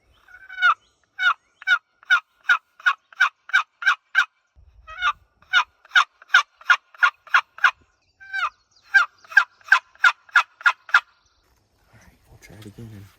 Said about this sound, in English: Turkey will gobble here.